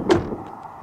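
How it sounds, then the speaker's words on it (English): Door of a JMC Vigus Chinese 4x4 pickup being shut, one solid close, short thud with a quick fading tail, close by with no talking. "Doors close well."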